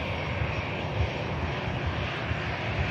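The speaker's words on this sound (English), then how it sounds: "And we have this EasyJet on the way out to Amsterdam." An EasyJet airliner bound for Amsterdam rumbles past, its jet engine roar loud, broad and steady at Manchester Airport with no talk over it.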